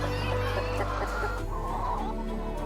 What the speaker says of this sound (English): Domestic chickens are the most numerous bird in the world.